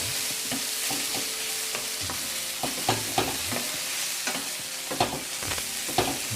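Kohlrabi caramelizing in a hot cast iron pan is stirred, with a steady close sizzle and frying hiss under repeated scraping, clattering strokes of a utensil against the pan at an irregular rhythm.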